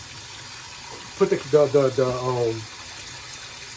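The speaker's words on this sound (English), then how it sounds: "run some hot water for a while" Hot water running from a tap into a backed-up basement sink drain, a short gushing splash lasting about a second and a half, with someone speaking briefly over it.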